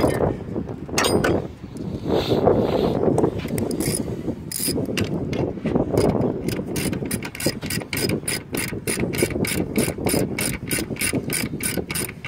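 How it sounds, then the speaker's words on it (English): A hand ratchet tightens a 14mm alternator bolt on a 1996 Honda Accord V6, clicking steadily in quick repeated strokes up close, the pawl chatter becoming sharper and more regular as it goes. "is tighten up this bolt here and then reinstall all of the wiring running back to it. So, grab 14mm."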